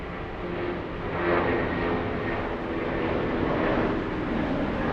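A jet airliner takes off at Los Angeles airport, a steady broad engine roar that swells slightly midway and holds loud and distant-sounding throughout, with no voices.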